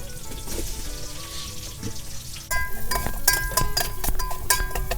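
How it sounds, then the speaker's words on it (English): Brinjal (eggplant) pieces stir-fry in a pan over a firewood fire in a Fijian village. A steady close sizzle runs throughout with clinks and scrapes of stirring, and the frying grows louder and busier halfway through. "Stir fry the brinjal pieces couple of minutes, then add crushed garlic."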